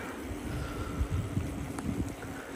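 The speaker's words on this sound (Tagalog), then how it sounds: "Ay hangin ba niya." Outdoor wind buffeting the microphone, a continuous rough low rumble with gusty surges and a few brief thumps, fairly loud and unbroken throughout.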